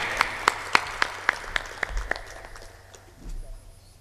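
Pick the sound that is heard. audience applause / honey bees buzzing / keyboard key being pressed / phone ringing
audience applause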